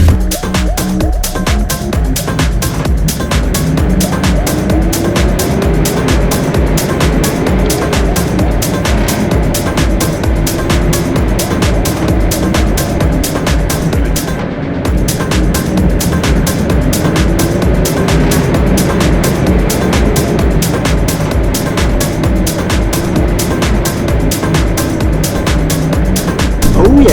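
A 4WD Land Cruiser climbs a rocky off-road track, its engine droning loud and steady throughout with a rumbling low growl that rises and falls as it works up the slope, a brief dip midway, under faint talk.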